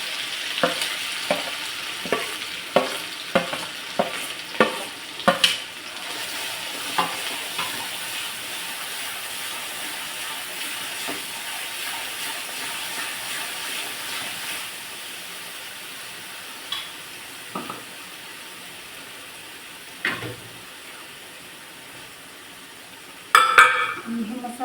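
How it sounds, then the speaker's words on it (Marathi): Spiced masala paste for a village-style black mutton curry hitting hot oil in a pan, giving a sizzling, frying hiss with repeated short stirring clacks early on, then a steadier background fry with occasional scrapes. "आता तेलात हा सगळा मसाला टाकून घेऊ."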